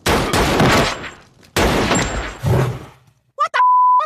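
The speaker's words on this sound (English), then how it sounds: "Oh my God, the fire's got a gun!" Cartoon gunfire from a fire wielding a gun: two long, loud bursts of rapid shots, each about a second and a half, followed by a pair of short clipped blasts.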